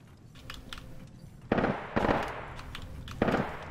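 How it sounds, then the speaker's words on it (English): Gunfire in a video game, several sharp bursts of shots with brief pauses between them, loud and punchy against a low game background. "I keep shooting at him."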